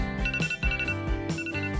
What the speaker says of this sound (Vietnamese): À, báo thức đã đến giờ dậy rồi à?